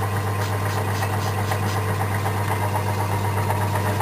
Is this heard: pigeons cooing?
no